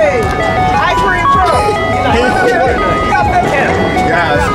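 An ice cream truck passes along an Atlanta street, its melodic chime tune ringing loud and close over a running motor, with people's voices mixed in.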